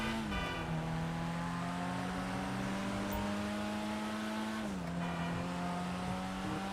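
A stock Ford Sierra Cosworth RS500 in GTA Online pulls hard under acceleration, its engine note climbing steadily, dropping briefly at a gear change near the end and then rising again, loud and close.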